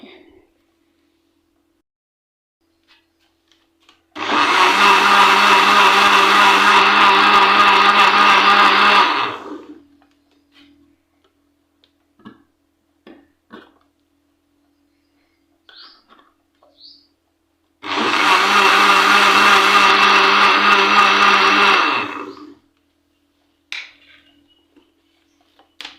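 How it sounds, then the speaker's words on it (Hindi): Watermelon and ice for sharbat whirring in an electric blender, two loud sustained bursts of several seconds each separated by quiet gaps with small clicks and handling noises. "अब हम इसके अंदर डालते हैं बर्फ़। हम इसे ढक देते हैं और इसे ब्लेंड कर लेते हैं।"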